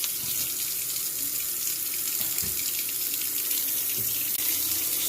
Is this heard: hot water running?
yes